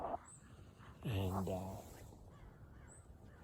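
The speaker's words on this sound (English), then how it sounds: "this crow's been honking, crowing at me all morning" A crow caws outdoors on a morning, with a brief call near the start and fainter, distant calls later, while someone talks over most of it.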